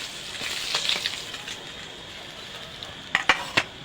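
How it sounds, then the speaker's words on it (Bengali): Fish fry in hot oil in a pan, producing a steady soft sizzle, with a few sharp utensil clinks and scrapes against the pan near the end. "বাকি মাছগুলো ভেজে নেব"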